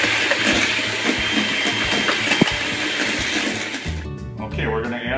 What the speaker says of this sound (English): I'm whipping 4 egg whites